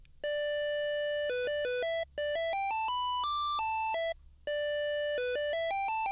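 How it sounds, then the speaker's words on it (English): A bright square wave synth plays a stepping harmony line of short and held notes in a video game skeleton boss track, with two brief gaps, clear and close with no voices. "And what this sounds like is it's a square wave"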